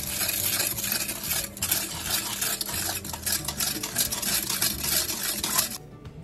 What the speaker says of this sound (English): Add 3 to 4 cups of brown sugar. And just stir it briskly.